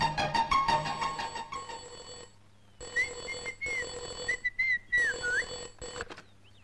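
An office telephone ringing in a Telugu comedy film scene, a bright warbling electronic ring in several separate bursts with short silent gaps between them, loud and close, with no voices.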